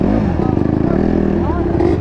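A 250cc ATV engine revving close by, a loud pulsing motor drone that rises and falls over about two seconds, with voices mixed in.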